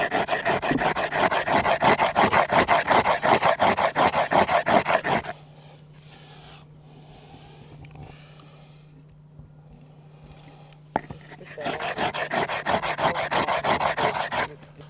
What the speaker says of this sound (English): Now what I need to do is to give that a bit of a sharper edge, is to grind it.